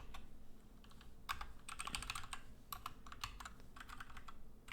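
Quiet keystrokes on a computer keyboard arrive in irregular bursts of rapid taps with short pauses between them, close and soft against a faint background hum.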